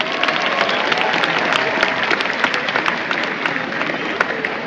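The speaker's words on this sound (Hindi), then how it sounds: "ये महीनाबाद जोरदार ताली हो जाए आप सभी के लिए।" A seminar audience breaks into loud, sustained applause, dense and steady throughout with many hands clapping at once.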